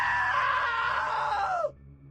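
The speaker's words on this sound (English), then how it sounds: "Now that was a great scream." A woman's long, loud, high scream from the video game What Remains of Edith Finch holds steady and then slides downward before cutting off abruptly, leaving a quiet room tone.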